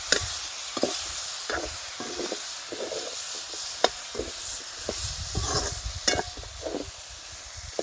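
A spoon stirs drumstick vegetable with turmeric in a pan, soft rubbing scrapes and occasional sharp taps over a low hiss, close and fairly quiet.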